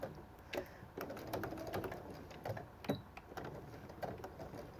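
Quiet sewing machine taps as a few short tacking stitches secure quilt binding, an uneven series of small mechanical clicks and thumps over a faint background hum, with no voices.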